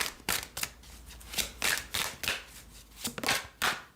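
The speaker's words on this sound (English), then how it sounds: "this is actually a dream to shuffle with" A new tarot deck is shuffled by hand, making crisp, papery riffling bursts in an irregular rhythm of about a dozen quick flicks, close and fairly quiet, with no talking.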